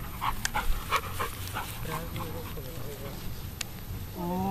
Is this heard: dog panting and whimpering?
yes